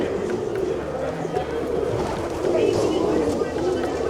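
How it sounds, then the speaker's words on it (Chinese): Soft pigeon cooing blends into a busy outdoor crowd at a temple in Kathmandu's old town, with people chattering throughout and a steady murmur of activity. "这里真的超级多鸽子的啦"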